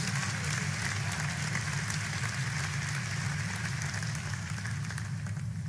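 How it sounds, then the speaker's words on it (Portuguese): A church congregation claps for the Lord, a steady, continuous wash of many hands applauding at moderate loudness with a low rumble of the room beneath. "pode dar ao Senhor uma salva de palmas"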